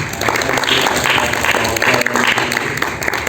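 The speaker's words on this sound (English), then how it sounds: "give them a round of applause" Applause from the audience at a school science and math society alumni forum, a dense, steady patter of many hands clapping throughout, fairly loud and close, with a faint voice or two mixed in.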